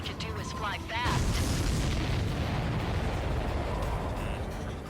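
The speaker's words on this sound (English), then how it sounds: "Did you see that explosion?" An explosion in the combat flight game Ace Combat 7 bursts into a long, dense roaring rumble that lingers for several seconds after a brief electronic warble.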